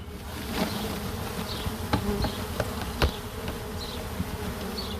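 Nurse bees shaken out of a hive frame buzz in a steady, dense drone close by, with scattered brief clicks and louder individual buzzes passing near.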